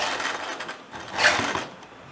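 A sewing machine runs in short, fast mechanical bursts while stitching a blouse back neck, its rattle close and moderately loud, swelling briefly near the middle before easing off.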